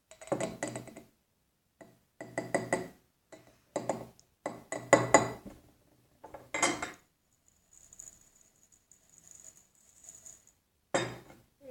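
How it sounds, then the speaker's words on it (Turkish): Baking soda spooned into a glass holding citric acid for homemade dish soap: bursts of close metallic clinks of spoon on glass in quick clusters, then a thin faint hiss and a final clink. "Ardından karbonatı ekliyoruz."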